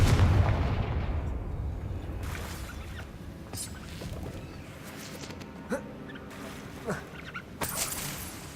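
A Confringo fire spell in the Hogwarts Legacy video game sends out a deep booming blast at the start, followed by a fading rumble and scattered smaller crackles and impacts.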